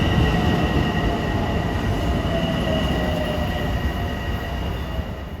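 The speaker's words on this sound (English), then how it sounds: "Train coming in is 1517 from Huntington to Penn Station" An LIRR commuter train pulls into Mineola station during the morning rush, a broad, steady rumble of wheels on rail with faint high squealing tones running over it, loud and close throughout.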